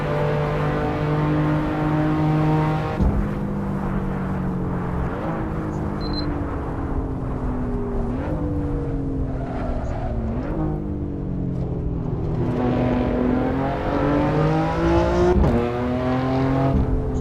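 Race car engine in the Assetto Corsa racing game revving steadily and loudly throughout, with repeated sweeping gear-change pitch drops and climbs and a steady roar, with no voices over it.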